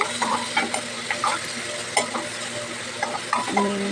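Vegetables frying in a pan, with a soft sizzle beneath repeated scraping and stirring strokes of a spatula against the pan, close and fairly busy.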